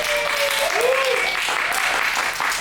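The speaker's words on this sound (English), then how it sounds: "We'll give a round of applause, everyone, too." A studio audience claps loudly for a chat-show guest, dense continuous applause throughout with a whoop or cheer rising briefly near the start.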